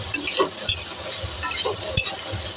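Vegetables frying in a small amount of ghee or oil for a homemade dish, with a steady close sizzle, scraping stirs and a few clacks of the spatula against the pan.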